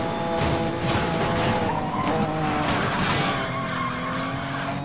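A BMW M in Need for Speed Most Wanted (2012) skids with loud tyre squeal over a roaring engine, a continuous close scrubbing screech with pitch shifts, no voices.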